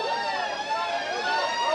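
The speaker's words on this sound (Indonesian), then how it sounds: "mobil damkar terus berdatangan di sini karena kami pantau memang kobaran api masih terus terasa." Fire truck siren sounding steadily as engines keep arriving at a large fire at a fuel depot pipeline, a continuous wailing tone close by throughout.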